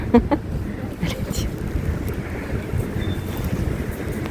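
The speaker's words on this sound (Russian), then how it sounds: "Сегодня очень дуже сильный ветер." Strong wind buffets the microphone in low roaring gusts in Dnipro, Ukraine, with water sloshing nearby and a few sharp knocks at the start.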